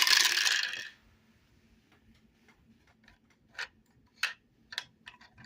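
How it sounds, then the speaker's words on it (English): Dice rattle briefly, then a series of sharp clicks and small knocks come as they tumble and settle on a tabletop near a 3D-printed game master screen, close and crisp against quiet. "Let's roll some dice."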